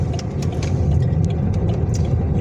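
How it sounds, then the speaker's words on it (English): Chevy car driving along a painted bike lane on a road, its engine a steady low rumble passing close by with constant traffic noise. "guy in the Chevy, driving in the bike lane, driving a little farther in the bike lane"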